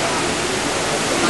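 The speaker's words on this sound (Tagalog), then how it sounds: "Ayun yung waterfalls." Broad, steady roar of a large waterfall near Mount Fuji, close and loud, filling the short stretch without a break.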